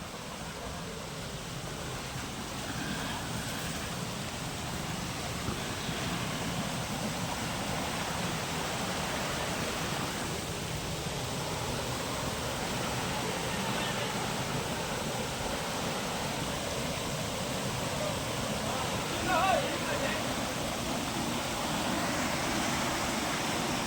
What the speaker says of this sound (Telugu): లోపల అయితే వాటర్ ఫాల్ అయితే ఉంది